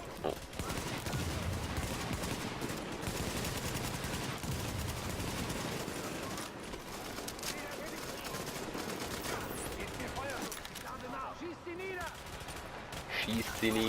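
Dense bursts of automatic gunfire in the shooter The Division, near and sustained for most of the stretch, with voices in the background.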